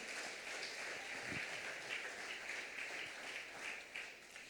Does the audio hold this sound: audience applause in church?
yes